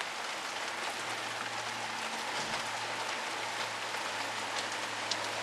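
Steady outdoor rain falling as a dense, even hiss with scattered drops pattering on surfaces, continuous and moderately close, with no talking.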